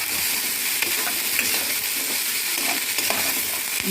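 Dried red chillies fry in a pan for coconut chutney with a steady, close sizzle, and faint stirring scrapes come and go throughout.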